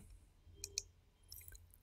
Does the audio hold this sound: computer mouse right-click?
yes